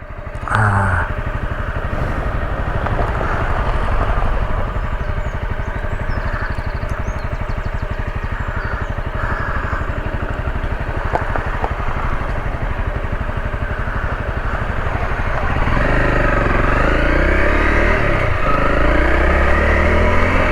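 A Honda CRF250L trail motorcycle runs close and loud on a dirt trail for a long stretch, its engine droning steadily before revving harder toward the end as the rear wheel spins up.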